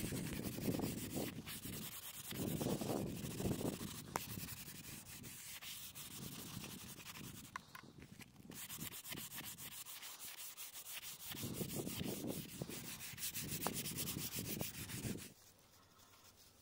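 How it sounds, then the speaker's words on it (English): Abrasive sanding strokes rub along the sharp edges of a moulded solid fiberglass and carbon bow, coming in steady repeated bursts up close for most of the stretch before stopping near the end. "Sanding down all of the sharp edges."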